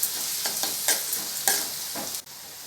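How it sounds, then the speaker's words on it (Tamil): Onions, green chillies and curry leaves sautéing in a pan for beetroot poriyal: loud, continuous sizzling broken by several sharp scraping stirs of a spatula, close up and without voices. "வெங்காயம் அப்படியே வதங்கி வரட்டும்."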